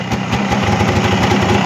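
A two-cylinder engine just started on a snowmobile trip in -40 frost, running steadily at a loud, close idle with a fast, even pulsing throb for the whole stretch, no voices over it.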